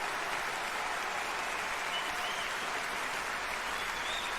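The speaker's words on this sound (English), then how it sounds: "This is the longest applause ever" A theatre audience gives a long, unbroken ovation during the Les Misérables 10th Anniversary concert, a distant, even wash of clapping from a large crowd that never lets up.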